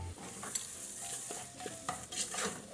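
Beans with seasoning, dried beef and calabresa sausage are sautéed in a pot, giving a soft sizzle under quiet scraping and stirring clinks, close but low in level, no voices.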